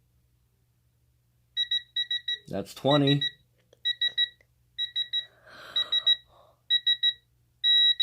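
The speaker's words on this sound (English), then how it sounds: "Right, beepy. It will beep." Repeated bursts of high-pitched electronic beeping from a tool during a 2.4-litre engine rebuild, in quick triplets and pairs, close and clear, with a brief spoken phrase and some handling noise between them.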